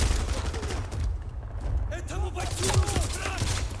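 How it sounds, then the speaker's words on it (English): Scattered gunfire in Call of Duty: Modern Warfare 2 Remastered, a series of sharp shots and short volleys at moderate volume, with a voice talking over the fighting. "Who's shooting?"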